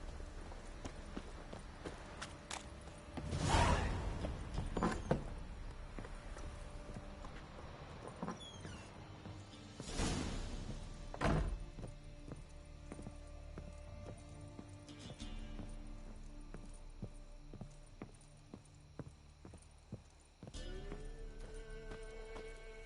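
Roach, a horse in The Witcher 3, walks with soft hoof clip-clops amid game ambience, with a few louder whooshing bursts.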